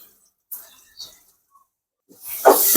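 Chopped tomatoes dropped into a hot pan of fried onions, with a couple of faint taps first and then a sudden loud, sustained sizzling hiss that starts near the end.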